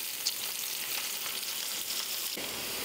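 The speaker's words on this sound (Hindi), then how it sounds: "प्याज को हम 4-5 मिनट फ्राई करेंगे जब तक प्याज का कलर हल्का चेंज ना हो जाए" Thinly sliced onion fries in hot oil, giving a steady, even sizzle with soft crackles and no talking.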